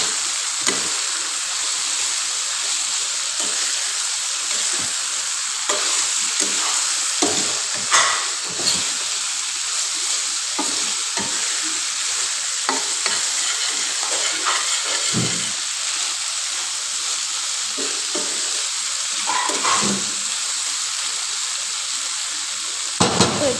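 Cauliflower frying in a pan, a constant hissing sizzle broken by scraping stirs and clinks of a spatula, close and steady over a long stretch with no talking.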